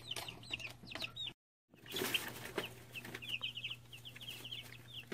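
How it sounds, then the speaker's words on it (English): Three-week-old chicks pecking at hay against cardboard in a brooder, with quiet chirps and peeps over faint scratchy tapping and a steady low hum, broken by a short silent gap. "They're having great fun right now, pecking at hay that's against the cardboard."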